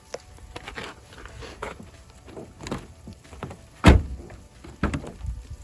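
Nissan 350Z door in snowy conditions being worked open and closed, with scattered clicks and rustling leading to one sharp, loud slam near the four-second mark and a softer thud shortly after.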